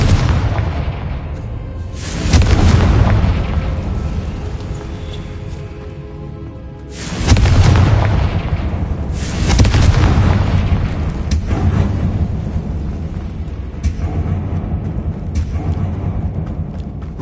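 Confringo fire spells from Hogwarts Legacy burst in several loud booming explosions, three main blasts with rumbling tails spread over the span, a deep roar between them.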